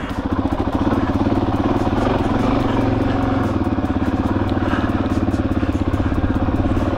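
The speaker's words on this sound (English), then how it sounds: "so here comes the DRZ 400E" A Suzuki DRZ 400E dirt bike engine runs loud and close, a steady single-cylinder thumping drone with a fast regular pulse and slight shifts in revs throughout, with no talk.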